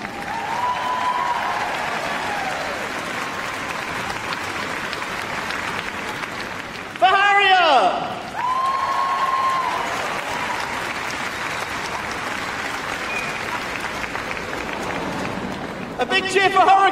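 Long steady applause and cheering from an arena audience at Crufts 2018 for an RAF display team, with a loud amplified announcer's voice cutting in briefly midway and again at the end over the continuous clapping.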